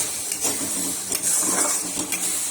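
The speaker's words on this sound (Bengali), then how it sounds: "এবার এর মধ্যে আলুটা শুকনো লঙ্কাটা দেব, দিয়ে ভাজবো" Potatoes and dried red chilies fry in a pan with salt, turmeric, green chilies and tomato: a steady, close hiss of sizzling oil with soft stirring scrapes and clatter throughout.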